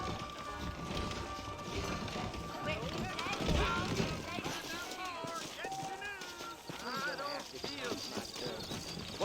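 Horses clip-clopping in the Red Dead Redemption video game, a steady hoof rhythm under nearby speech with rain-like patter and other ambience.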